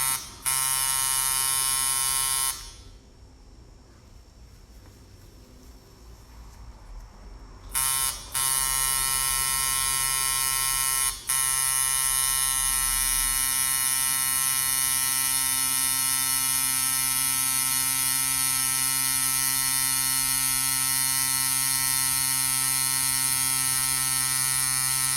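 A tattoo machine buzzing while lining skin, a steady electric hum with a bright whine that runs almost continuously, cutting out briefly twice. It is close and loud, with no talk.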